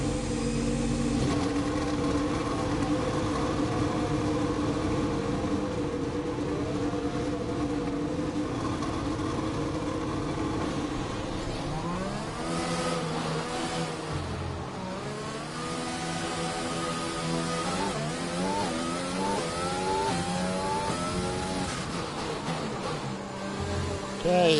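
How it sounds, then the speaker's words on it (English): An F1 2020 race car engine leaves the garage at Baku in Azerbaijan, a steady loud drone that rises and swoops in pitch through revs and gear changes, with steady background noise underneath. "All personnel be aware, car leaving."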